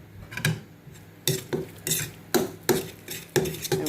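A utensil works through seasoning and soy sauce in a bowl for honey BBQ pork, giving roughly eight separate scraping, clinking strokes in an uneven rhythm, close by and moderately loud, with no talking.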